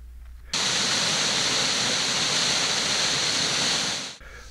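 Dean's Branch creek runs at high water over a waterfall, making a loud, steady, broadband rush that cuts in abruptly and then fades out near the end.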